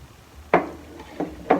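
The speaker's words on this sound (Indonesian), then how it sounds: "Kemudian saya aduk supaya dia tercampur merata dengan airnya." A spoon clinks against a container while stirring powdered detergent into water, three short separate taps, fairly close, with a quiet background between them.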